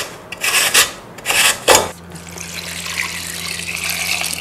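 Peeled potatoes are rubbed against a coarse grater for crispy fries, making several loud rasping strokes in quick bursts over the first two seconds, then a softer wash of running water follows.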